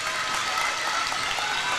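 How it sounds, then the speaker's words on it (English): Junior varsity girls' team cheering and clapping for teammates at a high school girls' basketball game, a dense, steady wash of applause and crowd noise at moderate volume with no clear talk. "Cowgirls junior varsity team over to my left cheering on their teammates"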